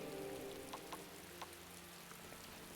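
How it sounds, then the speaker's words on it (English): Persistent rain in the video game The Guild 3 patters as a soft, even wash of drops, with a few slightly louder taps scattered through the steady hiss. "Persistent rain is causing floods."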